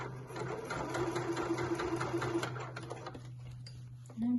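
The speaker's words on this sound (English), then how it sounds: "I'm just doing it by eye, sewing along that fold." A sewing machine stitches an apron along a fold through several layers, a fast, steady mechanical whirr of rapid needle strokes that slows and stops near the end, followed by a brief different tone, close by.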